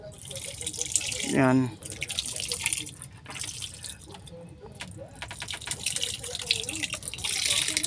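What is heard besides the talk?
pouring marinade over fish for daing (dried fish)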